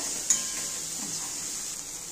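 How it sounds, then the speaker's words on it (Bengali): Soybeans frying in hot oil with salt and turmeric give a faint, steady hiss, with one brief utensil clink near the start. "এবার আমি সোয়াবিনগুলো ভেজে নেব, একটু লবণ দিয়ে ভেজে নিই।"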